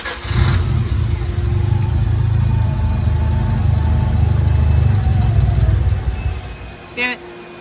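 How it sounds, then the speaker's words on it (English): A Mazda RX-7 FD rotary engine fires up with a loud burst, then runs at a steady, rough, throbbing idle close to the recorder before dying away near the end, followed by a brief faint knock. "here's the engine"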